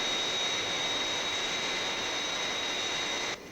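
Fireflash jet airliner on landing approach toward the runway threshold, a steady loud broadband roar with a high whine, continuous and unbroken, dropping slightly at the end.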